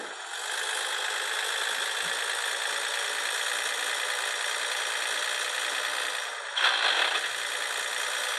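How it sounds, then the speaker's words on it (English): Volvo F-16 truck in the Cargo Transport Simulator video game, a steady engine drone with a brief harsh gear-grind burst near the end, loud and close with no talking. "Sorry about the gear grinding"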